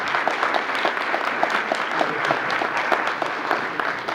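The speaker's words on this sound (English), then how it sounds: "Another round of applause." An audience at a forum session on zone meetings gives a round of applause: continuous, full clapping from many people at a steady level for the whole stretch, with faint crowd murmur beneath.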